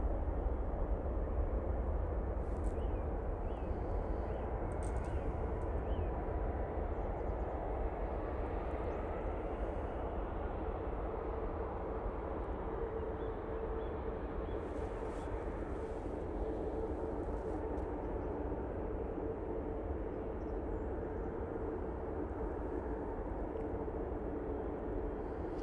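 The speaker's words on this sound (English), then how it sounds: "Ryanair coming in using the 737 MAX 8 there." A Ryanair Boeing 737 MAX 8 coming in to land at Manchester Airport, its steady jet engine roar holding at a constant level throughout, broad and continuous, with no voices.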